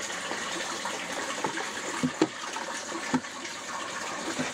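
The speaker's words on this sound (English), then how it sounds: "I have to scoop some water in, so I'm gonna get some water real quick" Water sloshing and splashing as it is scooped from a pond, with a few distinct gulps and splashes over a steady liquid wash.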